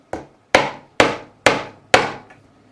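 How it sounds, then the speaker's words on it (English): A hammer strikes parts being seated into an Epiphone Les Paul Special guitar in five sharp, evenly spaced taps, each a crisp close-up knock with a short ringing decay and no talk. "I did tap these in with a hammer, but it's still quite high."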